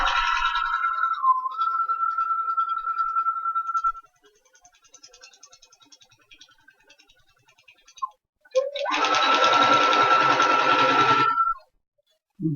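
Sewing machine stitching over a hair weft, a short whirring run at the start, then a quieter lull and a second loud, fast burst of stitching near the end.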